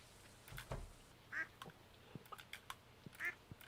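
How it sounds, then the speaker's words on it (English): Chickens in the game Stardew Valley answer being petted with two short, nasal clucks about two seconds apart, amid faint clicks and a low background hum. "Let's quickly pet the chickens."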